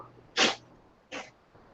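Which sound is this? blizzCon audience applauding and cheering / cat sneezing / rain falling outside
cat sneezing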